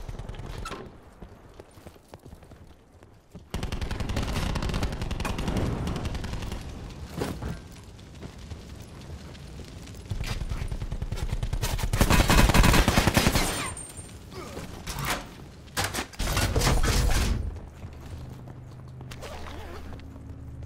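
Black Ops 4 gunfire erupts in several loud bursts and rapid automatic volleys between quieter stretches, with running footsteps and game sounds in between.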